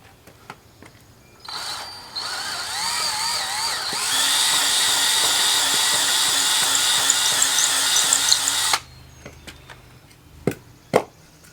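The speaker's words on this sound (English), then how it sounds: "and go ahead and drill that" A power drill whines steadily for several seconds as it bores into wood, then stops, followed by a few clicks and knocks.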